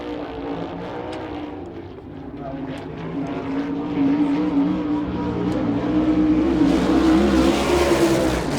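USAC National Sprint Car engine roaring through a qualifying lap at Rossburg, a loud sustained drone that climbs in pitch and intensity as the car accelerates, with an announcer's voice over it.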